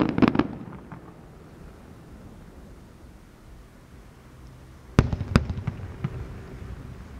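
New Year fireworks over Donggang, heard from far away, deliver soft thudding bursts at the start and another cluster a few seconds later, with quiet ambient hush in between.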